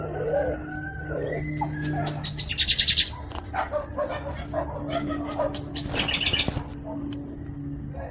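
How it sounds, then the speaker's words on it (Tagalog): Birds chirp and call outdoors around a vegetable garden, with short bursts of tweets over a low steady hum. A rooster-like call and a dog bark also sound in the background. "Nagkukwentuhan ang mga birds dito"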